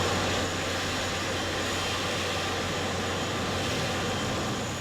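An Aeroflot airliner, flight SU-246 arriving from Moscow, rolls along the tarmac, a steady distant engine roar with a low hum underneath that holds evenly throughout.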